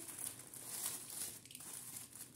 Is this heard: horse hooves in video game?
no